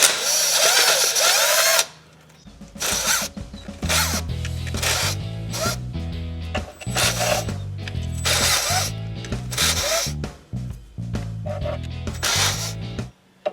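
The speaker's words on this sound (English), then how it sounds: "removing all the 10 millimeter bolts that go all the way around" A power tool whirs in short repeated bursts, close and loud, as it spins out the 10 mm bolts around a Jeep Cherokee transmission pan, with ratcheting clicks between runs.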